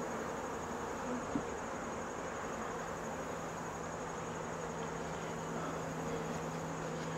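A yellow jacket hovers at a beehive trying to steal honey, its buzz a steady close drone lasting several seconds, with one faint tap partway through and no talking.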